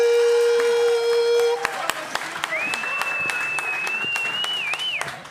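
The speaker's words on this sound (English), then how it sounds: "Give him a huge round of applause." An audience applauds a stand-up comedian at the close of his set in a London comedy club, a dense wash of clapping that starts right after a held musical tone and continues under a rising whistle-like sound.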